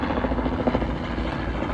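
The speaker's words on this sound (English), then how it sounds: "now there's a helicopter going by" A helicopter passes overhead with a steady, rumbling rotor drone throughout, loud and continuous with no talking.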